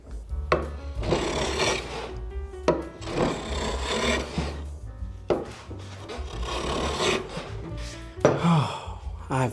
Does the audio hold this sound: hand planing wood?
yes